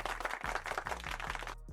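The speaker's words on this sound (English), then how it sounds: "Gotta clap your hands for him." Hands clap quickly and steadily at close range, a brief run of sharp, evenly spaced claps.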